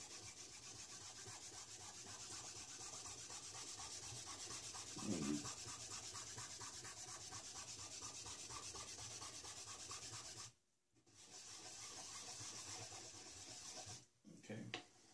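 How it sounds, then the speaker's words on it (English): Polish on fabric over plexiglass is rubbed against a metal piece at a jewelry bench. The scrubbing is close, steady and rhythmic and runs for most of the clip, with two short pauses near the end. "Now what you do is you take your polish and you just rub on there."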